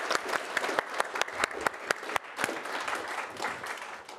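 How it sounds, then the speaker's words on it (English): Audience applause at a professional standards-forum presentation, a sustained round of clapping with sharp individual claps standing out, fairly close and steady for several seconds before easing slightly. "yes, round of applause"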